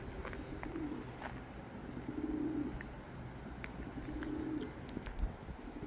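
Pigeons cooing in a coop, a soft repeated low coo rising and falling several times over a constant hiss of background noise, with a few faint chirps mixed in and no talking.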